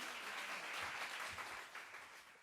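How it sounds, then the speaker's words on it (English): Audience applause greets a school choir, Dunoon Park Technical High, at a televised sing-off, a steady wash of clapping from a large crowd that holds for a couple of seconds and thins slightly at the end. "A round of applause, please, for Dunoon Park Technical High singing Forever Amen."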